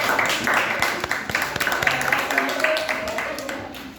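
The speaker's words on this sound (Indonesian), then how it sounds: "Tepuk tangannya buat kelompok ini." A classroom of students applauds a group after a poetry reading, giving scattered, uneven hand claps of moderate loudness that thin out toward the end, with some talk mixed in underneath.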